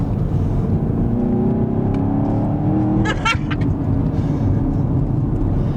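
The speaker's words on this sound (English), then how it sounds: "you can actually hear the difference in the engine notes as it reconfigures itself" A 2019 Chevy Camaro engine revs and pulls steadily, its note rising in pitch through the clip, loud and close, with a brief sharp clatter midway.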